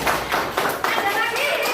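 Children clap for a classmate in a classroom, several sharp claps in a quick uneven rhythm, close and fairly loud.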